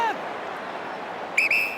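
Umpire's whistle at an Australian football match, Essendon versus Collingwood, 2011 NAB Cup Grand Final: one short, sharp double blast near the end over steady crowd noise, following a brief faint chirp at the start.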